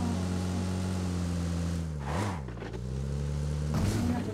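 A car engine in a video game holds a steady, loud drone with one brief rise and dip partway through and a short rev near the end, with no talk over it.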